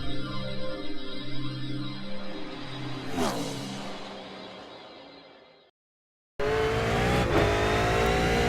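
A V8 Supercar laps Oulton Park in the sim racing game iRacing, its engine droning loud and close as it revs up and down through the gears. The sound cuts out briefly, then returns at high revs.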